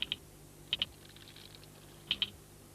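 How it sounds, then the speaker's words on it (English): Termite soldiers beat their heads on the ground in an alarm signal, producing faint, sharp clicks in quick pairs repeated three times at irregular intervals. "the soldiers sound their clicking alarm by beating their heads on the ground."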